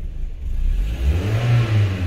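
A car engine running with misfires, in a car whose spark plugs were recently recalibrated, makes a low, rough, uneven rumble that swells and wavers steadily and close by for about two seconds, with no talking.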